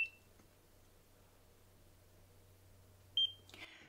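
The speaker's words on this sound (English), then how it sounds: "The full contact is that beep, and then the second contact telling you that it's done with deploying this" A NIRA handheld laser skin treatment device gives two brief high beeps, one at the very start and one near the end, marking full contact and the end of treatment, against a faint steady hum in a quiet room.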